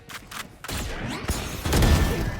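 Gunfire in the tactical shooter Valorant landing a headshot, a burst of sharp shots over game sound effects, loud and close in the mix.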